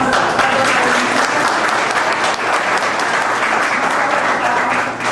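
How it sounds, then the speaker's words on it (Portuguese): A round of applause breaks out for an older woman honored as a top saleswoman at a Brazilian gathering, dense, loud clapping sustained evenly from start to finish. "eu quero uma salva de palmas."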